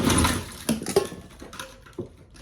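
Close-up rustling and clattering of makeup being rummaged through in a makeup bag, with a few sharper clicks and taps at irregular moments.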